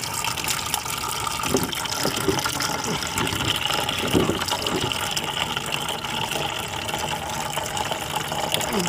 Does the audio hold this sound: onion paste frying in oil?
no